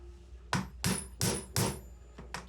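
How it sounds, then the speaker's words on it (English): Metal chisel struck with a hammer to punch holes in leather for a Bible cover, six sharp, evenly spaced blows close by with no talk. "It just chisels more holes is what it does."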